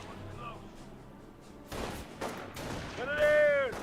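Bursts of grenadier infantry rifle and machine-gun fire in Company of Heroes, a mid-distance battle clatter swelling in the second half, with a voice talking over it.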